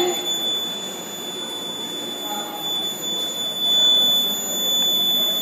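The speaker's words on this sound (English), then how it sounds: "it still doesn't stop the alarm." A water-level-sensing digital alarm clock sounds a continuous, thin, high-pitched electronic tone, steady and fairly close, over a faint background hum.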